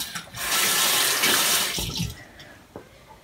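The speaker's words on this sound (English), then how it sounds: "So I am about to wash my hair" Water runs strongly from a tap for washing hair, a loud close steady rush that rises quickly, then eases and turns splashy as it is disturbed, with no talk.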